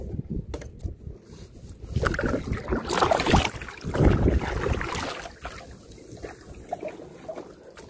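Small boat paddled across calm water while out crab fishing, with soft splashes and water swirling in uneven strokes, louder in the middle and fading toward the end, light wind on the microphone, no talking.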